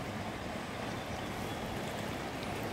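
A clear river runs past during salmon fishing season in Canada, giving a steady, broadband rush of flowing water that holds level throughout without a break, with no voices over it.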